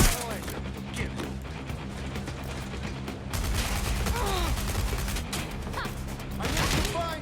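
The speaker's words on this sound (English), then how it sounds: "Gunfire!" Gunfire in the video game Watch Dogs Legion, a chaotic mix of rapid shots and mechanical clatter throughout, with game characters shouting over the firefight.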